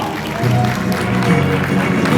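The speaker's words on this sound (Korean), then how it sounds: "여러분 다시 한번 뜨거운 축복의 박수 부탁드리겠습니다." Steady applause from a crowd at a Social Welfare Day ceremony, dense and sustained, with a murmur of voices mixed in, swelling slightly toward the end.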